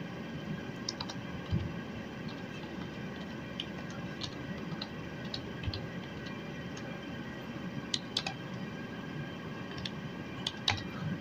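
Soft, irregular key taps on a computer keyboard as a bill number is entered, faint and sparse over a low background hum, with no talking.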